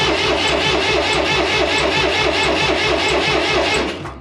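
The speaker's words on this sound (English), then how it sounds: "Go ahead and crank it, see if we can get it to fire." Diesel engine of an IH 484 tractor, just fitted with a new cylinder head, turning over steadily with a fast, even rhythmic chug throughout, loud and close, with no clear catch before easing off at the end.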